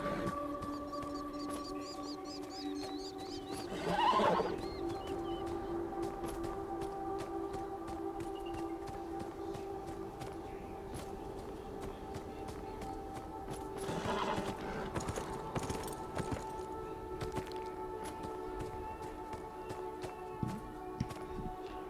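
A horse whinnies twice over rhythmic hoof clip-clops in the video game Beyond: Two Souls, with a faint steady tonal hum in the background.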